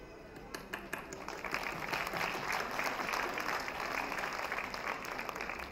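An audience at a stage event applauds in a sustained, even wash of clapping from many hands, moderately distant in a large hall.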